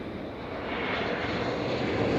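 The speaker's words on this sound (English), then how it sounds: "And a twin jet passing overhead." An Embraer twin jet passes overhead at Amsterdam Schiphol Airport, making a steady, broad engine roar that builds slightly as it nears. No voices are heard.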